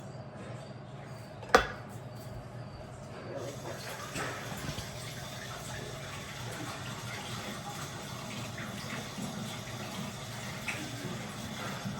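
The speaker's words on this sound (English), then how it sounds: "Gonna leave that for 2 seconds while I just wash up my hands." Tap water runs steadily while hands are washed at a kitchen sink during cooking, a continuous moderate gush with a brief sharp clatter near the start and no talking.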